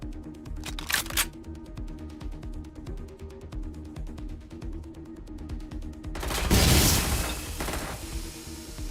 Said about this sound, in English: Gunfire! They're shooting!